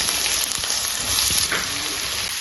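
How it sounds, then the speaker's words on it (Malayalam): Sliced onions hitting hot coconut oil in a pan for chicken curry, giving a loud, dense, continuous hiss of frying close up. "എണ്ണ ചൂടായി കഴിഞ്ഞ് നമ്മളതിലേക്ക് അരിഞ്ഞിട്ട് സവോള ഇടാം."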